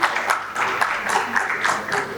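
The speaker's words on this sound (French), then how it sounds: "Sous vos applaudissements." An audience at a conference panel on hydraulic and industrial infrastructure and climate change claps, moderate and steady, while a voice speaks over the applause.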